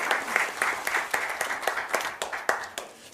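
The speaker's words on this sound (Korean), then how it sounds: "큰 박수로 맞이해 주십시오" A seated audience at a Korean political committee launch ceremony applauds to welcome the party leader, a steady, dense wash of clapping with sharper individual claps standing out, filling the hall throughout.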